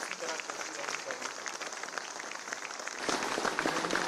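Applause rolls through an audience at an ATM inauguration event in Dehradun, a steady dense clatter of many hands that swells louder toward the end.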